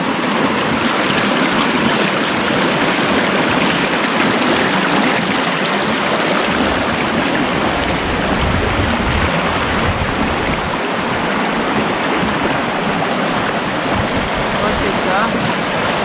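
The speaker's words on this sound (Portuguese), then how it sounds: "Aqui, ó, um rio com água corrente pra lavar os pés." A river of running water beside the BR-319 highway rushes in a constant, loud broadband flow that stays steady throughout.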